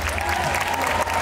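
Audience applause at a Disney-inspired costume masquerade event, a dense burst of clapping and crowd noise filling the hall, loud and continuous, with faint voices mixed in.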